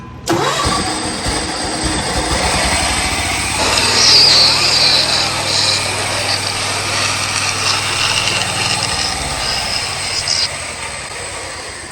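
A Ford LGT garden tractor engine cranks and catches, then runs loud and close at a steady mid-pitched roar for about ten seconds before it cuts out near the end.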